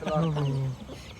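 Chickens in a rural Thai village give a brief, close cluck with a drawn-out tonal call, set against a steady background murmur.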